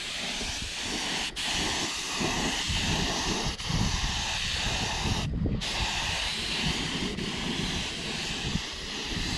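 Steady broadband hiss of a paint sprayer running continuously, with a brief break midway and faint clicks underneath.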